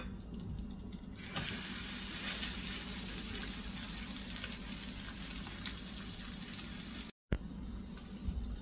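A Monte Cristo sandwich fries over low heat in a pan, giving a steady, close sizzle and crackle that keeps going through the whole clip, briefly cut off near the end.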